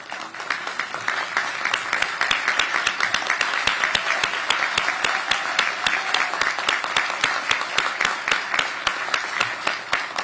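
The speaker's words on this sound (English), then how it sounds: "can you please stand for a moment so that we can applaud you?" Audience applause honoring city employees at a Annapolis inauguration ceremony, sustained dense clapping from a crowd filling about ten seconds at steady strength.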